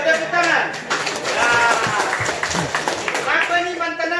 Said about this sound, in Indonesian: Ah, itu tepuk tangan.